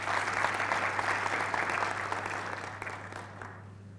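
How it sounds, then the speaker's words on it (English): A crowd claps for advanced certificate in secondary education graduates at a graduation ceremony in Windhoek, steady massed applause that holds for a few seconds over a low mains hum before tapering off. "Let's give them a big round of applause."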